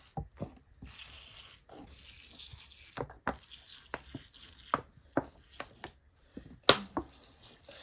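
Water is poured onto bare root strawberry plants in soil, giving soft trickling and splashing with repeated sharp drips and spatters at uneven intervals, quiet and close.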